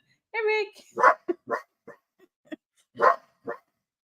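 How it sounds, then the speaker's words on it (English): A dog barking indoors in a burst of several sharp, close barks spaced unevenly, opening with a whiny yelp, mixed with people talking between and over them. "Calm the dog down."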